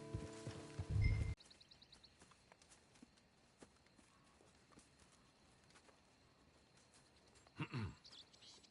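Horse hooves clip-clop faintly in a video game, a soft, quiet patter of steps after a brief louder burst at the start, with another small rise near the end.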